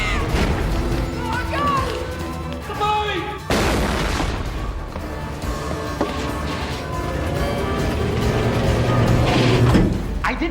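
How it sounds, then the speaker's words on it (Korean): A motorized rolling shutter comes down by remote control with a steady mechanical ratcheting rattle, mixed with a sudden bang, voices and film score in the background. "그때 브라이언이 리모컨으로 셔터를 내려버리고"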